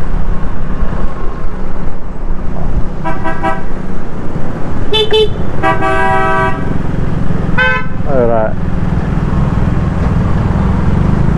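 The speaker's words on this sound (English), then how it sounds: "traffic on the outside, and the taxis in the middle of the road stopping to pick up fares." Busy street traffic in Davao City, Philippines, with taxis stopping mid-road for fares: a steady roar of engines with several short and longer car horn toots, and one brief spoken word.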